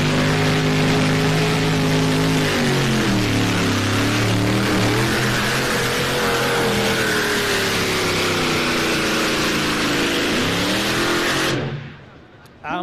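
A French and Furious tractor-pulling machine revs hard on the track at Edewecht, its engine roaring loudly for several seconds, then the revs sag and the sound cuts away abruptly at the end. A commentator talks over the engine.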